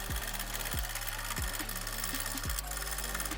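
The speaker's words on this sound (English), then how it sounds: "Let's jack this motor up." An engine hoist is jacked up to lift a motor, making four regular pumping strokes roughly every 0.7 seconds, each a low clunk over a steady background hum.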